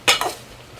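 A spoon scrapes through a pot of chicken cooking in milk, two quick close clinking strokes in under a second against a low simmering background.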